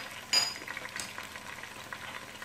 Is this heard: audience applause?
no